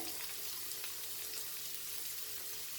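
Onions frying in a pan for a vegetarian dish, a steady, dense hiss and sizzle that stays even and close throughout with no voices.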